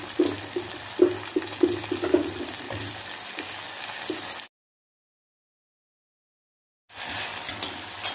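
Drumsticks fry in oil with softened onion, tomato and garlic, a steady sizzle with rhythmic stirring scrapes. A gap of silence cuts it off, then the frying resumes.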